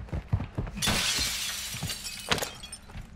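Glass shattering in a shooter video game, a sharp crash of breaking glass near the start, with tinkling shards and a couple of quieter impacts and knocks around it, no talk.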